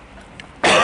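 A single short, harsh cough from a man with a sore, irritated throat, close and abrupt after near silence.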